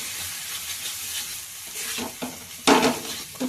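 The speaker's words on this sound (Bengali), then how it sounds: "এই যে ধনে পাতা দিয়ে এবার ভালো করে নাড়াচাড়া করব।" Banana flower curry with coriander leaves being stirred in a pan, a steady frying sizzle with scraping spoon strokes, the loudest stroke near the end, close and without talk.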